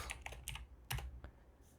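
Typing on a computer keyboard: a quick run of soft, close key clicks, then a brief pause before a few more taps, quiet and with no voice over them.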